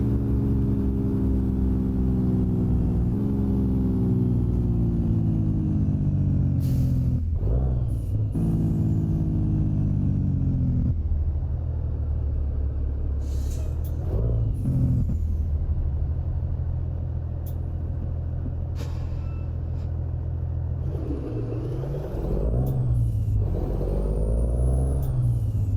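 A Kenworth T680 truck driving in American Truck Simulator in Oregon, with a loud low engine drone that slowly rises and drops through gear changes, and several sharp hiss-like bursts along the way.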